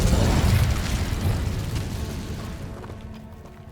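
Incendio fire spell cast in Hogwarts Legacy, a loud roaring whoosh of flame that starts at full force and slowly fades over a few seconds.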